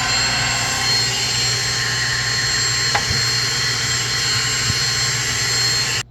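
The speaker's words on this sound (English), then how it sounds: "what's worked good for me to get that lint out and the dust off is just a hand vac with something that has a brush that can get down in there" A handheld vacuum with a brush attachment hums with a steady, loud motor whine while sucking lint and dust out of a GE Opal nugget ice machine, with a couple of faint knocks partway through.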